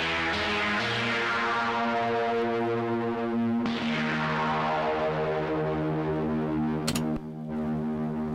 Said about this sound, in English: it has a synth sound that sounds something like this.